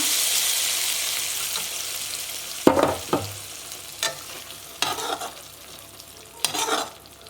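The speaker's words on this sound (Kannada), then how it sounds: "ಇವಾಗ ಲಾಸ್ಟಿಗೆ ಸ್ಟವ್ ಆಫ್ ಮಾಡಿಬಿಟ್ಟು ಒಗ್ಗರಣೆನ ಹಾಕ್ಕೊಳ್ಳೋಣ" A hot tempering of cumin, curry leaves and chili powder is stirred into a spinach stir-fry off the heat, giving a continuous frying sizzle broken by several sharp scraping stirs.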